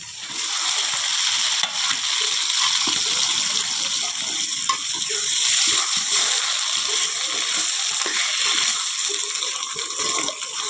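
Bottle gourd leaf paste sizzling as it hits hot oil for a shrimp and bottle gourd bharta, a steady, loud, hissing fry that holds evenly throughout with no talking.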